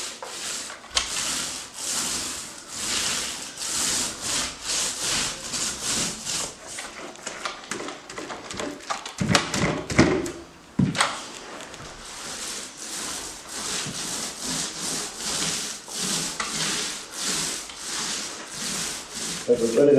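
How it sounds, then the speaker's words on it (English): A paint roller applied to an interior wall while decorating a room, with light, steady rubbing strokes repeating for about twenty seconds up close, the rhythm broken briefly midway. "You don't have to put too much pressure in the roller."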